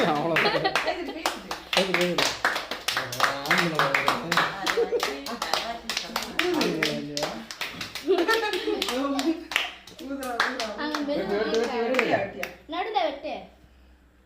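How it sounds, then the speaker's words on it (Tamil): Rapid, continuous hand clapping at a child's birthday celebration, loud and close, with children's voices talking and calling out over the claps. "இது கூட கை தட்டுது"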